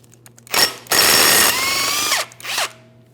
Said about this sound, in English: we're going to remove all 5 of our 13mm mounting bolts